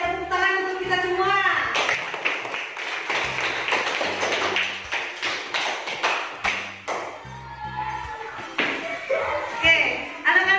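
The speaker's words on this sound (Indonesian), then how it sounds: "Ayo tepuk tangan untuk kita semua" Schoolchildren in a classroom clap their hands together at their teacher's prompt. Quick bursts of sharp claps come in irregular runs over a background of music and voices.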